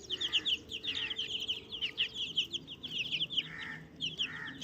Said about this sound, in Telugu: కోడి పిల్లల్ని బాగా యాక్టివ్గా తిరుగుతున్నాయి అంతటా.